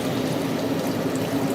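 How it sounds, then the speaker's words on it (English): About 400 ml of water is poured into a pan with tomatoes, giving a steady splashing rush at moderate loudness with no voices over it. "to this mixture now we're gonna add about 400 mils of water"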